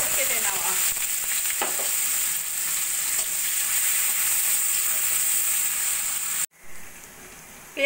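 Sliced onion frying in hot oil with cumin, bay leaf and cardamom gives a steady, close crackling sizzle throughout, broken by a brief quiet gap before the frying resumes.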